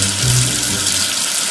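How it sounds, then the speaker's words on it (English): Steady running water splashes continuously, like a tap rinsing soap off a toy letter, with no voices. "Wash away the soap with water."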